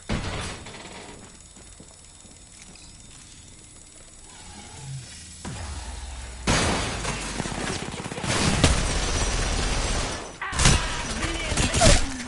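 Bursts of rapid gunfire and sharp shattering impacts break out after a quieter stretch, loud and repeated in several volleys, with game-like effects, from the video game Apex Legends.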